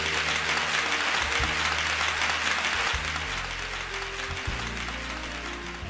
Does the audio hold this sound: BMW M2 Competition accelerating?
no